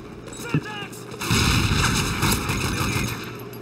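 Gunfire in the multiplayer video game Call of Duty: Modern Warfare 3, a sharp shot followed by a sustained, loud rumbling barrage of booming fire under game sounds.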